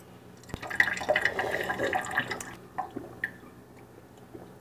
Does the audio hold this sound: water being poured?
yes